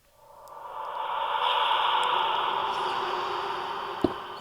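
A hollow, airy ambient drone of Minecraft's Soul Sand Valley swells in and holds, with faint distant whispery voice-like tones and a soft click near the end.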